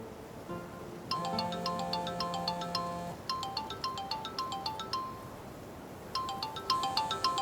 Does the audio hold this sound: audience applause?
no